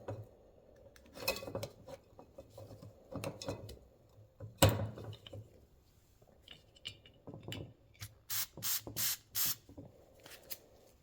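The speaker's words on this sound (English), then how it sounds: "get a little gun cleaner like this" Short hissing bursts of spray gun cleaner being blown through a clogged paint spray gun nozzle during carbon fiber hood repair, coming as scattered spurts and then a quick run of several close, sharp blasts near the end.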